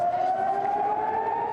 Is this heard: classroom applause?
no